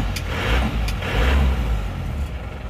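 Isuzu Panther pickup diesel engine running after a timing adjustment, a steady low rumble with rough, gruff character and slight swells in level, heard close and alone without voices.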